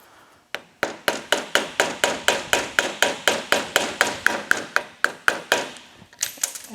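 A regular screwdriver is hammered to knock a link off the drive chain of a Kawasaki KLX 110 dirt bike, about twenty sharp metallic taps in a steady, even rhythm, close and loud with no speech.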